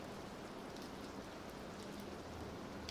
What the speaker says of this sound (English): hearing the rain slow down